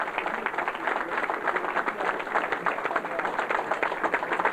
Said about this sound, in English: Let's have a big round of applause for Tommy Gilbert and his family.